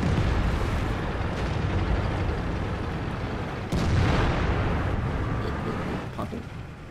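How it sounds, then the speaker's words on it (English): An IS-8 tank in World of Tanks fires a shell into the ground: a loud, rumbling blast over steady engine drone, then a second heavy explosion with lingering debris noise. "Don't mind me just blowing the ground."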